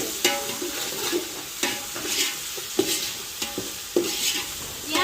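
Ginger garlic paste fries and gets stirred in a hot pan, a steady close sizzle broken by regular scraping strokes of the spatula roughly every second, with no voices.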